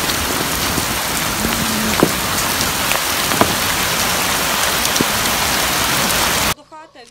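A heavy hail and rain storm in Zbarazh, Ukraine, pours down in a loud, dense, unbroken roar of drops hitting surfaces, with a few sharper hailstone impacts, until it cuts off abruptly near the end.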